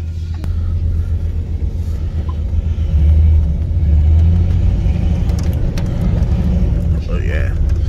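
A Chevy Caprice Brougham LS car being driven around the block, its engine rumbling steadily and close throughout with a slight swell midway as it accelerates, with no talk over it.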